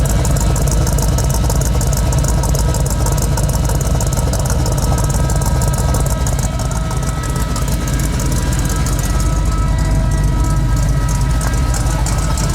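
A 1985 Ford F150 with custom side pipes runs steadily, a loud continuous engine rumble with a slightly choppy idle throughout, no voices.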